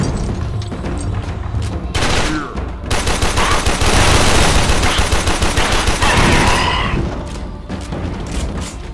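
Loud, dense gunfire in the Warframe shooter game, rapid machine-gun bursts and heavy blasts running almost continuously for several seconds.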